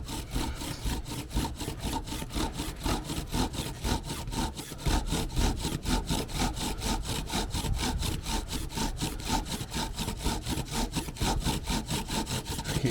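A wooden spindle grinds against a wooden fireboard as a bow drill is worked in even strokes, a close, rhythmic rasping that repeats steadily back and forth with no pauses or voices.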